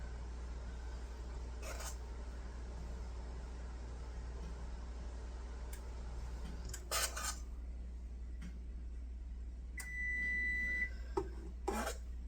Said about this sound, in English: That's my oven saying it's ready.